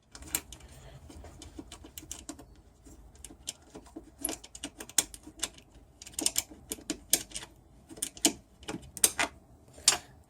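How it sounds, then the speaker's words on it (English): A ratchet clicks rapidly in uneven bursts while loosening a 10mm bolt on a new Ram truck, close and crisp, with faint background noise between the clicks. "Then remove this bolt. It's also a 10mm."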